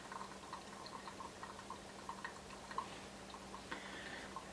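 Water from a pour-over coffee brew drips through the grounds in faint, irregular ticking drops over a low liquid bubbling, quiet and close with no voices.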